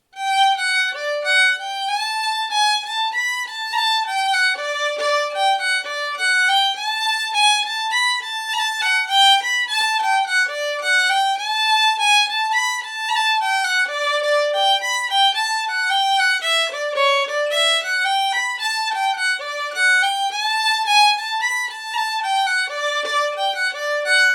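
A solo Irish fiddle plays James Byrne's Reel in Donegal style, brisk and steady with fast running notes and a lively, continuous rhythm, clear and close with no other instruments.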